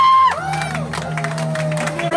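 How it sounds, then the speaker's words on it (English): At a chicken-eating contest in a Mangaluru restaurant, people clap and cheer briefly for the participants, scattered claps and shouts under someone talking loudly nearby. "big round of applause for Shreyas and all the other participants here"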